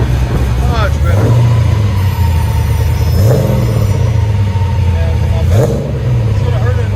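Cammed LS3 V8 swapped into a 1995 Nissan 240sx, with long tube headers and a Borla Pro XS exhaust, revving loudly and close up in three sharp blips that fall back to a rumbling idle between them.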